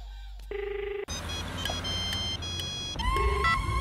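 A telephone being dialed in a Punjabi feature film scene gives two short bursts of steady electronic tones separated by a burst of background noise, close and clear, with no talk.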